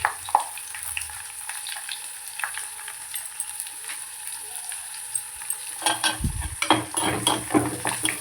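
Vadagam, garlic and ground pepper and cumin frying in hot oil for kara meen kuzhambu, a soft crackling sizzle with scattered stirring clatters, growing busier and louder toward the end.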